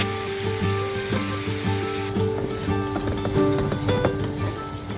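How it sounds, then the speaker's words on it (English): Two strips of bacon crisping in a pan over medium-high heat give a steady close sizzle with scattered pops and crackles, going on alone with no talk. "Cook the bacon in the same pan over medium-high heat until they are nice and crispy."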